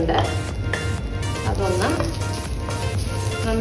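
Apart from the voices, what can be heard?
roasting grated coconut in a pan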